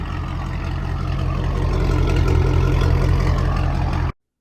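A Mercedes SL55 AMG with its supercharged M113K V8 and VRP Speed mid-length headers idles with a loud, deep, steady rumble, close and continuous, then cuts off abruptly.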